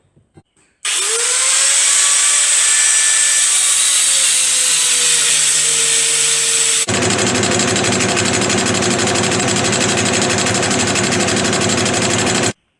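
Power tools machine down a metal sprocket carrier from a Jawa Land Patrol, a steady loud whine with a tonal pitch sweep, then a dense harsh grinding that runs continuously to the end.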